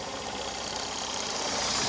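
Honda Unicorn 150 motorcycle engine idling after a start with the choke pushed down, carrying a steady, even mechanical hum with a faint fast rattle throughout and no talk.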